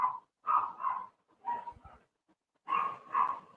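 A dog barks in a quick series of short yips and woofs, several bursts with brief pauses between them, close and fairly loud with no talking.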